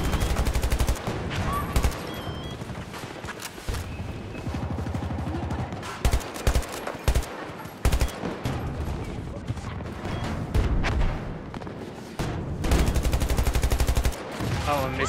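Dense video-game gunfire with bursts of automatic fire and single shots plus crashes and impacts, loud and continuous across the scene, with a player speaking over parts of it.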